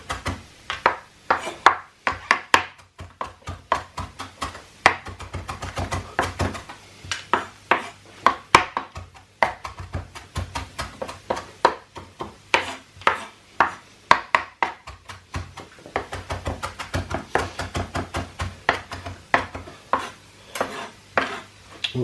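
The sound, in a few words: chopping onions finely with a knife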